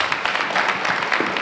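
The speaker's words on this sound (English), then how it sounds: "give yourself a round of applause for being here" Audience at a leadership conference panel clapping for themselves, a steady dense wash of many hands filling the whole moment at moderate loudness.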